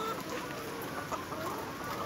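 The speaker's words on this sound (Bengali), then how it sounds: "এই মুরগির একটু ঠোকরাঠুকরির প্রবলেম আছে, তাছাড়া মোটামুটি মুরগির কোনো মেজর কোনো প্রবলেম নেই।" Nourish layer hens cluck on a poultry farm, a dense low murmur of many birds with scattered sharper calls, heard faint and steady throughout.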